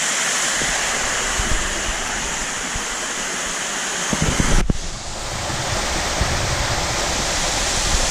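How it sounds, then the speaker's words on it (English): Heavy, steady rush of water showering down onto pot scrubbers in a large aquarium sump filtration system fed at about 40,000 gallons an hour by seven pumps, a continuous loud roar broken by one brief dip and clatter near the middle. "So the water is just showering down on the pot scrubbers and then runs out here and goes back to the pumps over there."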